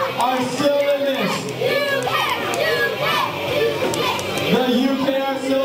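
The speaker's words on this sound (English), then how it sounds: "You can hear the crowd cheering." Crowd of spectators at a K*bot World Championships robot combat match, a dense wash of cheering, shouting and excited children's voices, loud and continuous with rising bursts throughout.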